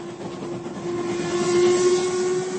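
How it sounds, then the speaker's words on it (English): A train runs with a steady rolling rumble and a sustained whistle-like tone, used as a sound effect in an audiobook, loud and even throughout with no voice over it. "And now Rupert was on another train"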